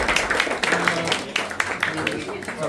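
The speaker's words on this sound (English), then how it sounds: "Round of applause for the B final." Applause and clapping from a crowd at an outdoor kart racing championship after the B final, with a voice talking over it.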